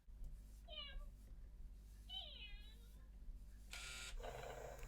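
A Teksta Purro interactive toy kitten gives two short electronic meows, then a buzzing, vibrating purr in a quiet room.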